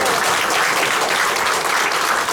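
Audience applauding after a presentation at an academic conference: dense, steady clapping from a sizable crowd, loud and close, filling the whole stretch without a break.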